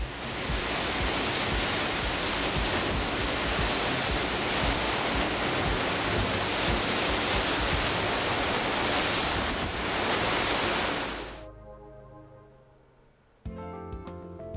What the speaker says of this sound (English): You can see from the surf on the water, it was a windy and chilly day.